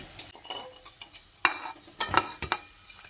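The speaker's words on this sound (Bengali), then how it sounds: "একইভাবে বাকি কোপ্তাগুলোকেও ভেজে নিচ্ছি" Soya chunk koftas frying in a pan for a Bengali soybean curry, with a soft background sizzle broken by several sharp clinks and scrapes of a utensil against the pan.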